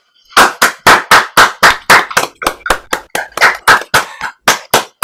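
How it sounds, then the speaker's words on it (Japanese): A crowd claps in tight unison at a Japanese company send-off ceremony, about eighteen loud, sharp claps in a steady, even rhythm with no talking. "もう一度大きな拍手をお願いいたします"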